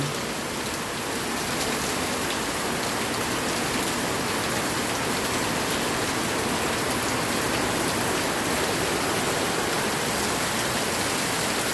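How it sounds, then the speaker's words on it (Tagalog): Heavy rain pours down steadily onto a terrace, a dense, constant hiss of drops hitting surfaces all around, with no voices. "Bigla na lang pong lumakas ang ulan"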